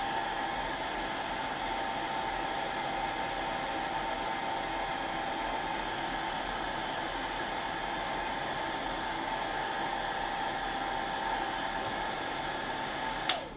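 Hair dryer blowing on a painted miniature diorama, a steady loud whooshing roar running alone and unbroken, ending with a brief click.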